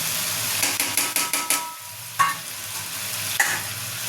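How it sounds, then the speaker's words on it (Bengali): Fried potatoes, fried prawns and pointed gourd tumbling into a hot pan of spices for a Bengali prawn dish, sizzling steadily while a spatula stirs in a run of quick scraping strokes, with a couple of sharper clanks later, no talking. "এবারে আমি এই ভেজে রাখা আলু আর ভেজে রাখা চিংড়ি মাছ আর পটল সব আমি এর মধ্যে দিয়ে দেবো"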